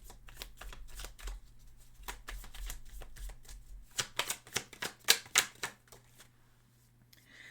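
Tarot cards being shuffled by hand, crisp riffling flutters in quick bursts with a denser flurry of slaps partway through, close and fairly quiet over a low steady hum.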